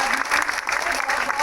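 A short burst of loud, close crowd clapping at a Ramayana lecture held at the India Center in Yangon, Myanmar: dense, continuous applause with no speech over it.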